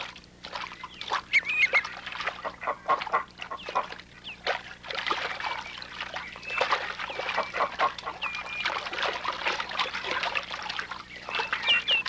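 Ducks quack and chatter continuously close by, many overlapping calls in a busy flock, with a faint trickle of water underneath.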